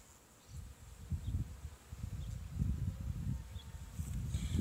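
A honey bee swarm of docile bees hums in a low, steady drone, the buzzing swelling and fading in waves close by with no voices over it.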